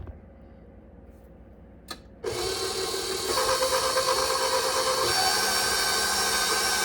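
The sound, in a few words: electric mixer creaming shortening and sugar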